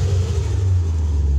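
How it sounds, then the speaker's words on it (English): A 2008 Ford Mustang GT with 68,858 miles idles, its exhaust giving a steady, deep, close rumble with no revving. "I'm actually gonna get out and let you hear the exhaust."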